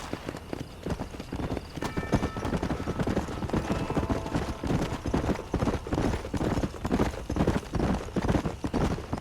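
A horse gallops in Red Dead Redemption, its hooves beating in a steady rapid rhythm, near and clear with faint background ambience.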